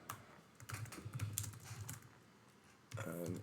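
Rapid clicking keystrokes on a computer keyboard while coding, close and fairly faint, in quick uneven bursts with a short pause before a voice speaks at the end.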